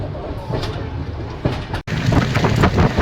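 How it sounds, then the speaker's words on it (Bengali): A Jan Shatabdi Express train pulls out of Kharagpur, heard from onboard as a steady, fairly loud rumble with rhythmic wheel clatter and wind rush, broken by one brief dropout. "ট্রেন খড়গপুর ছেড়ে বেরোচ্ছে"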